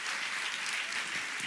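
Dense, steady applause from a church congregation at a women's retreat fills the whole moment, loud and continuous without letting up.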